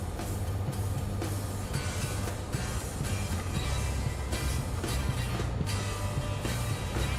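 An underpowered BNSF freight train rumbles steadily in Train Sim World 6, a continuous heavy, low engine drone with rail noise throughout and no talk.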